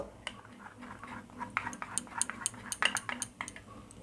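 Green chilli paste, poppy seeds and mustard being mixed together in a bowl, giving soft, close scraping and light clinking of a spoon against the dish, quiet and irregular, with no talking.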